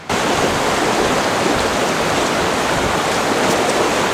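Water pours steadily through a gravity-fed purification bag hung from a nail outdoors, a constant close rushing hiss that runs unbroken for the whole clip without any voices.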